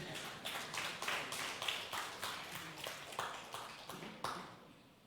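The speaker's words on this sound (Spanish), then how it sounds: "Vamos a dar un fuerte aplauso ahí." A church congregation claps together in a steady patter that rises and falls for several seconds before fading out, with no voices over it.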